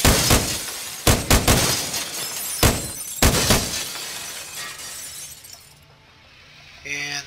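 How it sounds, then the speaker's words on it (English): Glass breaking in the video game America's Army Proving Grounds comes as a string of sharp, loud shattering crashes in quick bursts, then trails off into quieter room tone, with someone talking throughout. "And you can break the glass here,"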